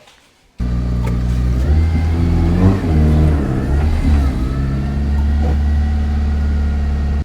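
A 2007 MPFI car engine runs in a garage, starting abruptly and then holding a steady, loud, close rumble with a few brief revs rising and falling.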